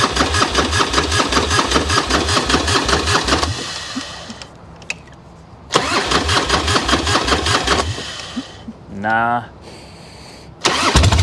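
A Plymouth Roadrunner engine cranks in long rhythmic bursts, pausing between attempts, then catches briefly with a rising rev before cranking resumes; someone speaks briefly between tries.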